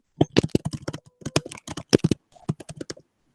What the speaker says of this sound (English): Whoever is typing loudly,